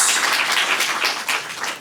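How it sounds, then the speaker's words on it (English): Audience clapping for conference panelists at a downtown business improvement district session, a steady, fairly dense wash of applause heard throughout without pauses. "Maybe give them a little applause here"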